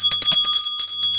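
A large bell is struck several times in quick succession, bright ringing tones that sustain and fade, loud and close with no talk.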